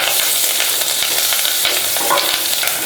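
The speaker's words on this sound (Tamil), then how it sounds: "போட்டு வதக்கி விடலாங்க." Steady, dense sizzling and crackling of curry leaves and garlic sautéing in a hot pan, with occasional scraping taps of a utensil stirring, close and continuous.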